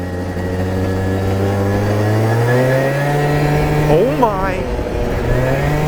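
A modified 50cc scooter engine holds a steady mid-pitched drone, then climbs in a brief, wavering rev as the throttle opens slightly, loud and close throughout.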